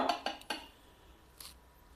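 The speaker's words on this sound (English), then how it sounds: "So first I will put the grinder together." Metal parts of a meat grinder clink together during assembly in a kitchen: three quick close clanks, then a fainter clink after a pause, with no talking.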